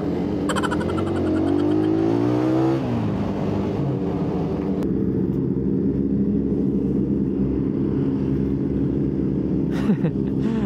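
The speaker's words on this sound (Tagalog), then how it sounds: "Ang ingay ng mga big bike mga kapwa, ang ingay ah." A loud, continuous drone of heavy big-bike engines, including a Kawasaki Z1000, rumbles throughout, rising as a machine revs past up close, with a faint voice under the noise.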